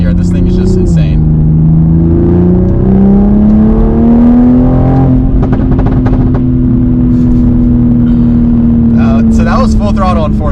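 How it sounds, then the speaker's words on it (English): A 500 hp Toyota Supra accelerates at full throttle in fourth gear, its engine note rising steadily and loudly over about ten seconds, with a voice speaking briefly near the start and near the end. "So that was full throttle in 4th gear."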